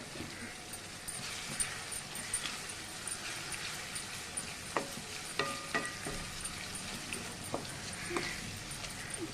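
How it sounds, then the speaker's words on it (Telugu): Ginger garlic paste fries in a pan for a junnu curry, giving a steady soft sizzle with light stirring clinks and scrapes throughout, fairly quiet and close. "పేస్ట్ అనేది పచ్చివాసన అంతా పోయేదాకా ఫ్రై చేసుకోవాలి."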